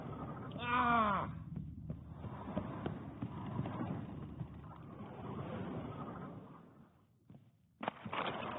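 Horse hooves clip-clop in The Witcher 3 game, a steady rhythmic trot of a single horse heard close, with a brief louder creature call near the start and a dip toward the end.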